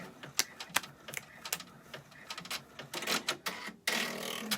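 An embroidery machine stitches out a word in a series of sharp, irregular clicks and taps close by, growing denser and louder toward the end, with no talking.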